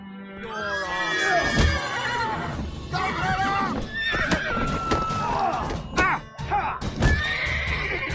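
A horse whinnies loudly several times over galloping hoofbeats, with shouting voices mixed in, busy and close, in the video game The Witcher 3: Wild Hunt.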